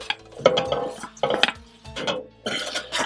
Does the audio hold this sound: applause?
no